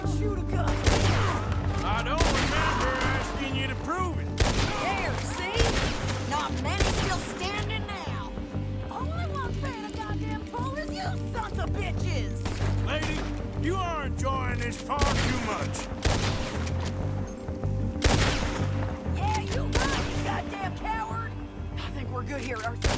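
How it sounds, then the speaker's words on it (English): Gunfire in a Red Dead Redemption 2 shootout on PS5: repeated sharp shots and bursts crackle through a dense, loud mix of game sound, with voices talking over the fight throughout. "Told you I could shoot a gun."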